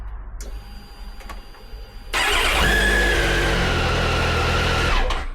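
A car engine with a newly fitted starter motor cranks briefly, then catches and runs loudly at a steady idle for a few seconds before cutting off.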